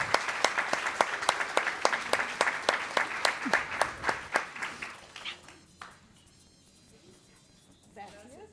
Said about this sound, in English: help me to give a big round of applause to every single person who is here.